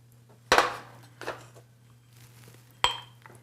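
A ladle clinks against ceramic ramekins while scooping custard-soaked panettone bread pudding into them: two sharp, close knocks about two seconds apart, with a softer tap between, over quiet kitchen background.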